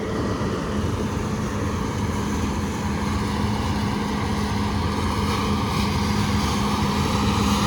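A farm cutting machine runs steadily while mowing a field, its loud engine drone continuous and close throughout with no voices.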